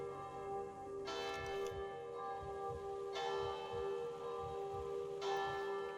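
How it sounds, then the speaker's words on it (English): A church bell in the tower in Sniper Elite: Resistance strikes three times at slow, even intervals, each ringing tone lingering and fading over a low ambient rumble. "The bell's ringing"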